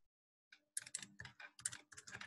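Close, quiet typing on a computer keyboard into a chat box: a quick burst of separate key clicks in a short rapid run, heard alone.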